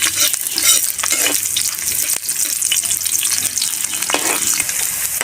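Onions sautéing with golden brown garlic in a pan make a loud, close, continuous sizzle broken by scraping stir strokes, with no voices heard.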